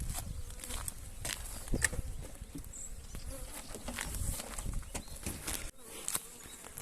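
Honey bees buzz continuously during a hive inspection, a dense, close drone with scattered taps and rustles from the hive work and no one talking.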